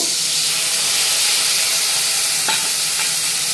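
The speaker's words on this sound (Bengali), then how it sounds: "পেঁয়াজগুলো ভাজা হয়ে গেছে। এবার মশলাটা দিয়ে দেব।" Spices go into fried onions in a pan, raising a loud, continuous sizzle and hiss close by, with a couple of faint clinks of stirring.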